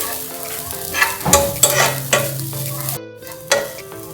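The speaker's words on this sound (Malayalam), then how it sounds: "ഒന്ന് തേങ്ങയിലുള്ള വെള്ളമൊക്കെ ഒന്ന് പോയിട്ട് ഒന്ന് റോസ്റ്റ് ചെയ്തെടുക്കുക" Grated coconut dry-roasting in a pan for a banana snack, with a soft, crackly sizzle broken by repeated scraping strokes of a spoon, close by, with a tonal background that ends in a brief pause.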